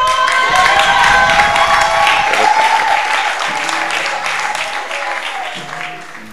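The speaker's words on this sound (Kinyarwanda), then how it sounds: "barahise amashyi" Audience applause and cheering at a religious gathering, a dense, loud wash of clapping that holds steady, then gradually thins and fades toward the end.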